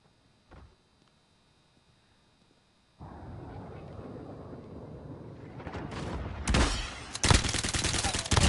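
Gunfire in the video game Modern Warfare: quiet at first with one brief thump, then rising rattling shots from about three seconds in, with sharp, loud bursts near the end.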